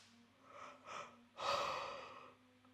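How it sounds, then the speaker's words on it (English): A person's yawn during a floor yoga stretch, with a drawn-in breath that swells into a long open exhale, close and fairly quiet, alone without talk. "No idea why that makes me yawn."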